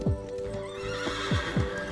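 A nearby horse whinnies loudly in several descending calls, mixed with the clip-clop of hooves on the ground.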